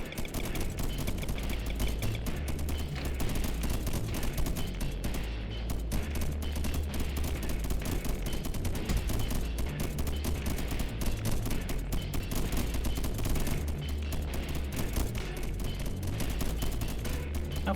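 Snipers fire without pause in a war video game, a dense rattling stream of rapid shots at steady loudness that carries on unbroken, with no voices over it.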